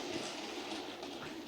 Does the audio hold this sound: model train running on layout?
yes